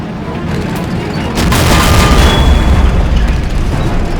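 An artillery strike in the Blitzkrieg strategy game, near a Panther tank in an encirclement, sets off loud, heavy booming explosions. They swell into a sustained, rumbling roar partway through and stay dense and close until the end.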